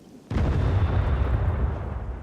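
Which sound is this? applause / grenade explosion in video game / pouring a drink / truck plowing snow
grenade explosion in video game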